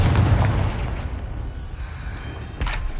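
Confringo fire blast spell from Hogwarts Legacy, a loud booming explosion that opens with a heavy low burst, rumbles on, and ends with a second sharp pop near the end.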